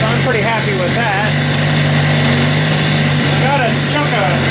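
A Stihl TS400 cut-off saw engine idling steadily after an ultrasonic carburetor cleaning, loud and continuous, with a voice talking over it.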